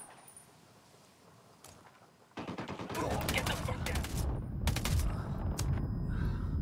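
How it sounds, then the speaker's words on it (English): Squad gunfire in a Tom Clancy video game, dense overlapping bursts of shots that start abruptly partway through and keep going loud and continuous, with a voice speaking over the shooting. "Opening fire."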